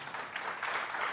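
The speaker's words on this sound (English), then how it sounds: "you could clap." Applause from a studio audience at a business spotlight interview, a soft, dense wash of clapping sustained steadily for about a second without voices over it.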